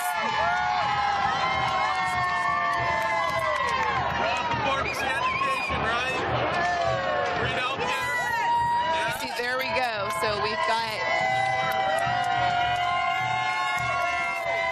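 Crowd cheering and clapping along the route of a charity walk in San Francisco, a dense, continuous roar of voices and applause all around, with someone talking close by over it.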